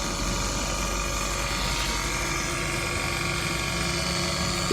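A Hammersmith HydroBlast cordless power washer runs with a steady whirring motor hum and gritty mechanical rattle, a constant moderately loud drone lasting the whole stretch without speech.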